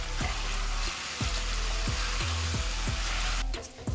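Biryani masala with mint, coriander and fried onions frying in a pot, a dense, steady sizzle close by with a regular low thumping pulse underneath.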